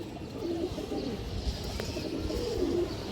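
High-flyer pigeons on a farm give two soft, low coos about two seconds apart, close by, over a muffled rumbling background with no speech.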